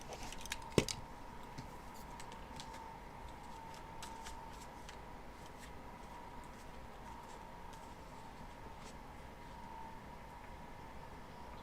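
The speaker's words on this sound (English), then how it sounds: "Let me shuffle these cards back in" Tarot cards being shuffled in a quiet room, a soft, steady papery riffle that runs throughout at low volume with a faint constant hum beneath and one brief sharp tap near the start.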